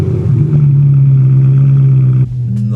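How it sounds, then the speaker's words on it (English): A BMW E90 M3 saloon's V8 engine, fitted with a weak battery, fires up and settles into a loud, steady, close idle. The note drops slightly in pitch just before the end. "the speed of the starter motor, it sort of like fires really quickly, it spins really quickly"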